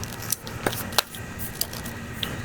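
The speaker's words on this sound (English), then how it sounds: "And I still can fold this up" A compact travel tripod is folded up by hand, with several light metallic clicks and clacks of its legs and locks at irregular intervals, close and fairly quiet.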